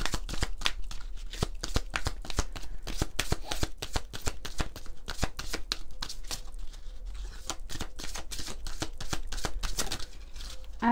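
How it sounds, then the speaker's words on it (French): A deck of oracle cards is shuffled close up for a card reading: a steady, rapid flutter of cards riffling and slapping together, continuous and fairly loud throughout, with no voices. "on va prendre un message des cartes du cœur"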